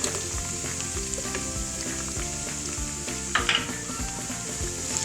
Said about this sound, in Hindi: प्याज को भी सौते कर लेना है।